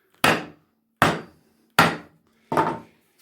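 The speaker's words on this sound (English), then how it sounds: "you take a wedge, put the wedge there, you grab your hammer and you smack that thing" A hammer drives a wedge into a low Roman-style wooden workbench with four sharp, loud strikes at steady intervals, each crack decaying quickly, with no talk.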